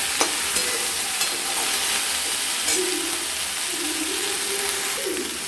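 Mixed vegetables with a pinch of turmeric sizzle steadily in a home kitchen pan for a Bengali mixed vegetable ghyat, with intermittent scraping stirs over a constant frying hiss, close and clear, no talking.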